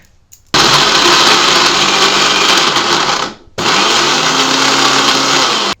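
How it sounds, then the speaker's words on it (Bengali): A mixer grinder whirs loudly as raw mango is blended into paste for kasundi, running steadily for about three seconds, pausing briefly, then starting again, with a strained motor drone and no talking. "এবার মিক্সির মধ্যে দিয়ে দেবো এগুলোকে একটু পেস্ট করে নিতে হবে"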